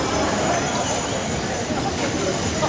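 Hooves of a four-horse hitch clip-clop during a driving competition at Charlottetown's Old Home Week, a steady loud patter mixed with crowd noise and a voice.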